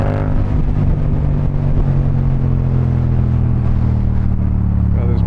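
A motorcycle engine on a fast commute on city streets gives a loud, steady, droning rumble throughout, close to the rider with no break.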